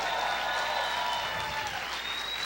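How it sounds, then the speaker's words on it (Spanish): A church congregation claps loudly and continuously, a dense wash of applause with no pauses and a faint tone running over it. "Grite y aplaude fuerte al Señor."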